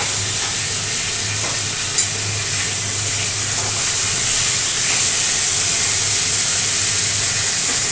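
Shing fish fry in hot oil, giving a steady, close sizzling hiss that runs unbroken for several seconds, with one faint knock partway through and no talking.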